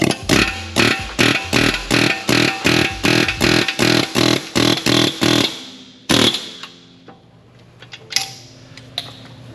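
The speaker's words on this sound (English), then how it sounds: "We'll throw our air hammer in here in the center." An air hammer hits a car axle in a rapid series of loud, evenly spaced bursts, then stops, followed by a single blast and a few scattered clanks.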